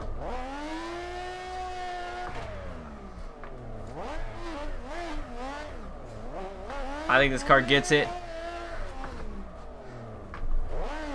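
A Mazda RX-7 FD in Assetto Corsa on the Fujimi Kaido mountain road, its engine revving up and down through gear changes with tire squeal and a burst of louder revs midway, while someone talks over it.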